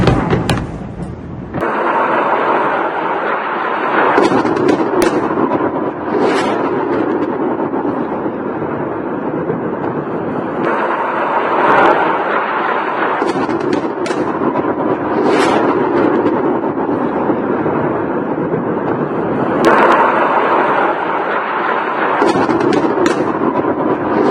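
A series of bomb blasts strikes bridges in Lebanon, with sharp, loud bangs breaking repeatedly through a continuous heavy rumble.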